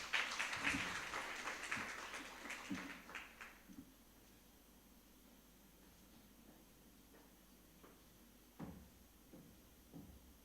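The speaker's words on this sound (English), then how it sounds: "Let us welcome Mrs. Imesha Sanjeevani with a round of applause to this presentation session" A conference audience at a presentation session claps for a few seconds in a moderate burst that thins out and stops. A quiet room follows, with a few scattered knocks.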